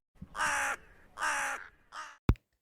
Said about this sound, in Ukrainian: Так, ворона каркає.